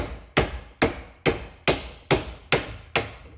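Eight evenly spaced metal hammer strikes ring out, steady and sharp, knocking out a stuck brake pad on a 2013 Hyundai Santa Fe Sport, each blow ringing briefly before the next, with no talking.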